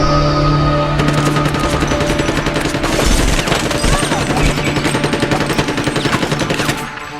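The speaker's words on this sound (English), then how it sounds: "Will Smith was shooting it out of a Ferrari window in Bad Boys 2" A UMP45 submachine gun fires out of a Ferrari window in a Bad Boys 2 action scene: dense, loud, sustained automatic bursts that fill the whole stretch, mixed with other film sound, and then ease off at the end.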